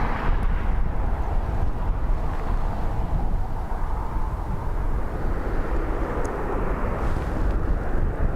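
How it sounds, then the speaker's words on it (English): A distant airliner landing at Dublin Airport in strong wind gives a steady, broad roar of jet engines and gusting air that holds for several seconds with no talk. "Seeing that far away flight landing there, getting moved around like that, it's worth it."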